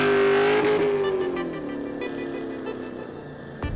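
A Mazda RX-7 in a motorcycle-versus-car drift battle roars past close by, its loud engine note sliding downward as it moves away, with a brief sharp sound near the end.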